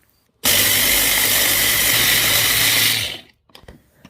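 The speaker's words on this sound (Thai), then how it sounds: "เราก็ใช้เครื่องปั่นปั่นให้มันละเอียดเลยนะครับ ปั่นให้มันเป็น ผงเลยนะครับ" A blender grinds roasted Doi Ang Khang coffee beans into powder, a loud steady whir that starts abruptly, holds for about two and a half seconds, then cuts off, followed by a few faint clinks.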